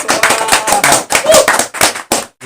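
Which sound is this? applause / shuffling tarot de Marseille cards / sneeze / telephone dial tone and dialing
applause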